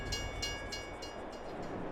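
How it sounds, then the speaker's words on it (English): A train rolls in within the Farming Simulator 22 video game, a steady loud rumble of rail wagons with rhythmic clacking bursts, heard alone without speech. "Here comes our train."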